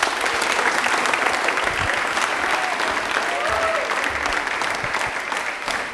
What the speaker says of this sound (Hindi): तालियां हो जाए जोरदार वाली